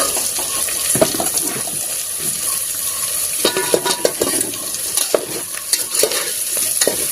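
Eggplant sautés in a pan with a steady, loud sizzle and frying crackle, broken by scraping stirs and occasional clinks from the spoon, with no talking.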